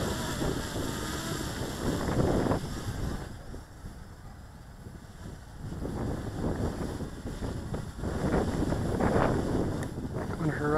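Wind buffets a lightweight 3D-printed tricopter flying outdoors and the microphone, a steady rushing roar with louder gusts that rise and fall, and a voice talks faintly under it.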